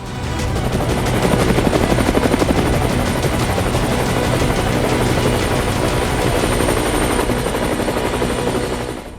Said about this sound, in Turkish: Savunmadaki Türkler programının bu haftaki konuğu T-129 Atak helikopteri.